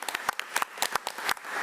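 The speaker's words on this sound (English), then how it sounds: "So let's give Mr. Brandon Williams another round of applause." A short burst of scattered clapping from a small audience at a school district board meeting, light and uneven, with no voices over it.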